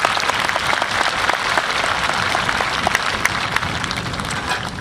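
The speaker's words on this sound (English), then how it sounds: "Please give our district leadership team a round of applause." An audience at a Hoke County High School graduation ceremony claps for the district leadership team. The applause is dense, steady and sustained, a full crowd of many hands, with no voices standing out above it.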